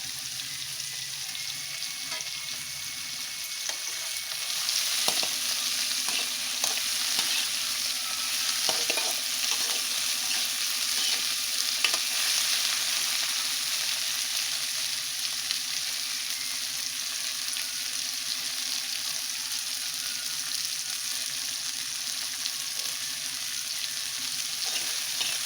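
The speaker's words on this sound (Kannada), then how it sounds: "ಗಸಗಸೆ ಹಾಕ್ತಾಯಿದ್ದೀನಿ." Cinnamon, cloves and poppy seeds dry-roasting in a pan, a continuous close hiss and crackle with light scraping of stirring throughout, rising slightly after the first few seconds, no talk.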